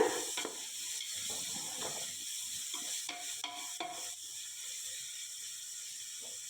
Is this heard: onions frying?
yes